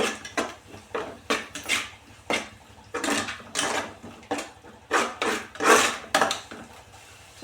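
A spoon repeatedly scrapes and stirs chilli powder into a mushroom paneer curry in a pan. Some fifteen quick, rhythmic scraping strokes sound close and clear, with no talking.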